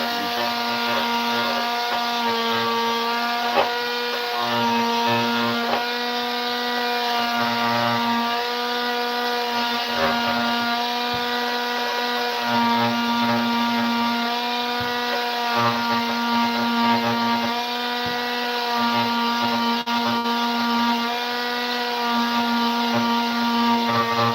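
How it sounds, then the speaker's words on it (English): A detail sander works over a wooden piece in a workshop, giving a steady droning hum with a rhythmic low rubbing pulse throughout, continuous and fairly loud, with no talk. "I'm gonna do some sanding of this"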